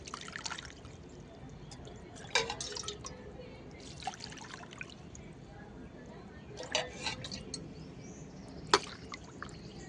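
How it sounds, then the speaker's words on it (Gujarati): Water is poured into sabudana (tapioca pearl) paste for papad, a soft, faint trickling and dripping with a few brief splashing bursts, quiet and close. "તો અહીં હું 3 ગ્લાસ પાણી ઉમેરું છું"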